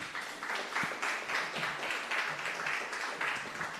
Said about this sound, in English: Let's welcome with a warm applause Ms. Nelida Catalina.